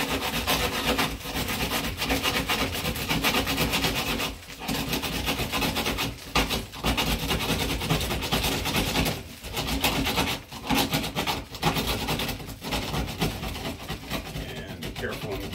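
A hand saw rasps back and forth through plaster and lath in long, gritty strokes, close up, with brief pauses between bursts of sawing.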